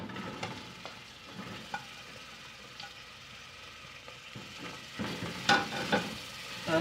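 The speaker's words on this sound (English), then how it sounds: "let's fry these onions until they turn into light brown in color." Chopped onions, two medium-sized, frying in a pan as a soft sizzle with scattered scraping stirs and a few louder clatters near the end; fairly quiet, no voices.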